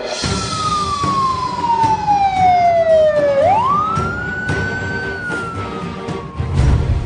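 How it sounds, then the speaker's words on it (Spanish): A loud wailing ambulance siren sweeps down and then rises again, close by, with traffic rumble underneath. "se escuchó el sonido de una ambulancia que llegaba con urgencia"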